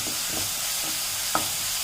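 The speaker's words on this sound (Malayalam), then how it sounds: "2 മിനിറ്റ് ഒന്ന് നമുക്ക് വഴറ്റിയെടുക്കാം" Masala is sautéed in oil left from frying chicken for biryani, giving a steady close sizzle with soft stirring scrapes and one brief clink of a utensil against the pan.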